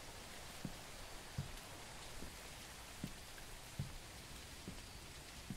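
Steady rain pours throughout a scene in the video game MEAT, a dense continuous hiss with a few soft low thumps at intervals, fairly quiet and without any talking.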